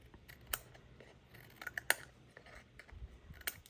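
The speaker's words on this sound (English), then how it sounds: "if you want to cut a straighter line, you should look at the tip of the scissors" Scissors snip through paper in quiet, irregular crisp cuts, a few sharper clicks standing out, close by with no talking.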